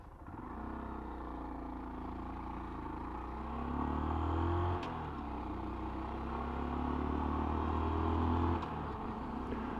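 A slow motorcycle's engine drones steadily while riding, its pitch rising and falling with gear changes, loud and close with road and wind noise.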